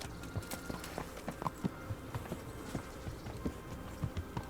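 Horse hooves clip-clop at a steady walking pace in the video game Kingdom Come: Deliverance, fairly quiet and a little distant, over a soft background hum.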